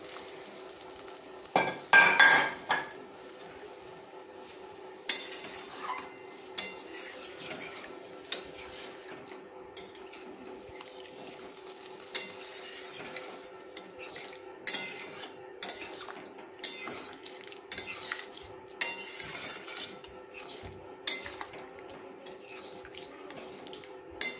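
A fish roe fritter curry with potatoes is stirred in a pan. A quiet background hiss runs under scattered spoon clinks and scraping taps that come at uneven intervals, close by, with no speech.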